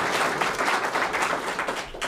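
Canned crowd applause played on a radio talk program, steady dense clapping that holds at an even level throughout, bright and continuous with no voice over it.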